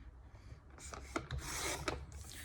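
A paper trimmer slices through scrapbooking paper, a soft raspy scraping of the blade with a couple of sharper ticks, close and fairly quiet.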